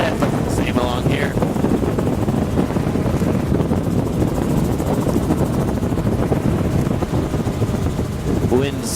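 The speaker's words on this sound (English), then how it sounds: "Wind's shaking us around" Gusty wind buffets a small aircraft and its microphone near the coast of Scammon Bay, a loud rumbling roar with rough low thumps throughout, overlaid by a steady engine drone and brief voices in the background.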